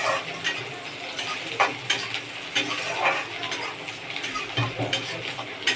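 Finely chopped onions fry in hot oil in a pan, a steady crackling sizzle punctuated by repeated scraping and tapping of a spatula as they are stirred, close and moderately loud.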